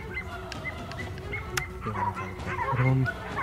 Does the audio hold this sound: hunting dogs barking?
yes